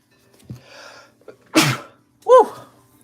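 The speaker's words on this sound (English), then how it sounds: "Sneezing, coughing." A single loud, sharp sneeze bursts out near the middle, preceded by a faint intake and followed by a short voiced exclamation, close to the mic in a quiet room.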